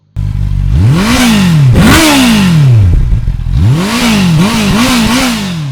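A Honda CB650R motorcycle engine revs up several times close by, rising and falling in pitch in quick bursts over a steady loud idle.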